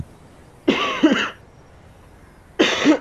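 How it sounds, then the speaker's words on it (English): Two separate coughs, close and fairly loud, about two seconds apart, with near silence between them. "Goddamn cough."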